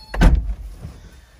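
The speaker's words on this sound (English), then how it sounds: "I'll shut this door to stop the buzzer." A single solid door of a 1985 Toyota MR2 slams shut with a heavy thud, followed by a short fading resonance.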